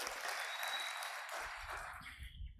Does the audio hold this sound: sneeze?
no